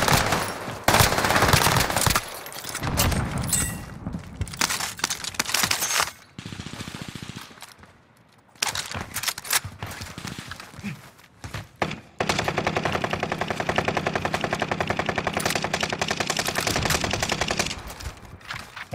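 Gunfire in Warzone Resurgence: loud, near bursts of automatic weapon fire alternate with brief lulls, then a long sustained volley of rapid shots near the end, with almost no voices.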